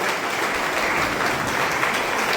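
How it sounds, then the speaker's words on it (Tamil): A hall audience at a JCI Vellore Metro club event honouring a president's year of achievements gives loud, sustained applause, a dense even clatter of many hands with no speech. "இந்த பலத்த கைத்தட்டல் அவர் கொடுங்க."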